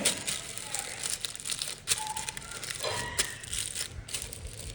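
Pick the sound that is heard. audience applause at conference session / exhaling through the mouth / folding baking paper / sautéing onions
folding baking paper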